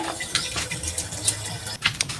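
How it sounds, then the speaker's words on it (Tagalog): Water is poured into a pressure booster pump connected to an overhead tank, giving a steady close splashing and filling sound over about two seconds with a few brief clatters, and no one talking. "tapos lagyan ng tubig"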